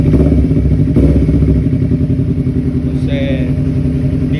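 A Honda CBR250RR motorcycle engine revs loudly up close, a dense rumbling roar that swells, eases back to a throbbing idle, then picks up again, with faint clatter over it.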